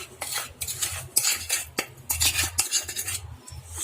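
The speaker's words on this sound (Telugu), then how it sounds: "ఈ విధంగా మొత్తం కలిసే వరకు కలుపుకోవాలి" Oil and powdered sugar stirred together in a bowl for wheat flour biscuits, a utensil scraping and clinking steadily against the bowl in close, repeated strokes, with no talking.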